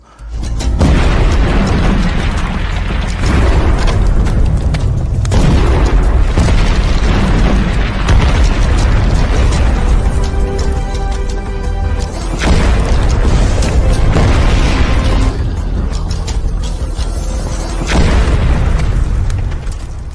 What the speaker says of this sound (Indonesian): Ledakan demi ledakan terdengar di sekitar mereka